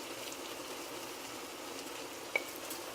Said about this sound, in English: So now is the right time to add your rice. You add your rice into your meat pan, basically.